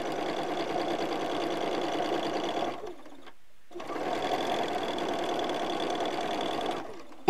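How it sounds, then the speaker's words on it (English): A sewing machine stitches along a fabric edge with a quarter-inch presser foot as a guide, running in two steady bursts with a short pause between them and a click at the end. "we're stitching right along the edge using our presser foot as our quarter inch"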